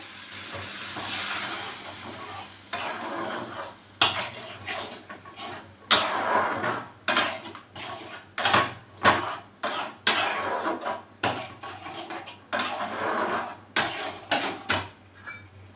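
Melon seed paste going into a pan of jackfruit dhokla curry, with bursts of hissing and clattering stirring in uneven pulses, close and fairly loud with no talk.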